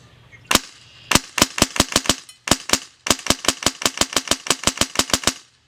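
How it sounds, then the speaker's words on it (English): Airsoft MP5 electric gun firing semi-auto shots: a single crack, then quick bursts of sharp, close, loud pops in rapid steady rhythm, with short pauses between groups. "we're going to start off with a couple semi-fire shots"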